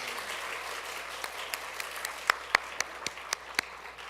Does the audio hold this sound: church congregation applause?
yes